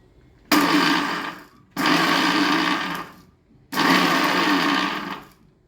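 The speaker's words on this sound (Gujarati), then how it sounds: "કાજુની કટકી જે વધી હોય એને આપણે પાછું મિક્સરમાં લઈને પાવડર કરી લેશું." A mixer grinder pulverizes leftover cashew pieces into powder in three loud, close bursts of whirring, each lasting over a second, separated by short pauses of near silence.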